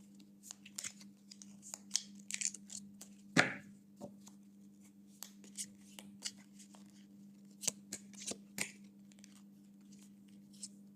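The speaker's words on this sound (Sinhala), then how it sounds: "බලමු අපි දැන් කාඩ් ෂෆල් කරලා." Tarot cards are shuffled in irregular bursts of soft riffling and crisp snaps, with one sharp loud snap partway through, all over a low steady hum. No one speaks.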